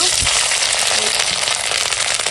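Vegetables drop into hot oil tempered with bay leaf, whole cumin and dried red chilli, giving a loud, dense, continuous sizzle and crackle close by.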